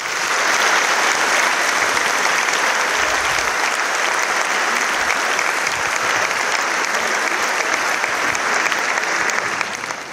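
A large audience at an eloquence contest final applauds to welcome a speaker: loud, dense, continuous clapping that stays full and even for about ten seconds, with faint crowd noise beneath.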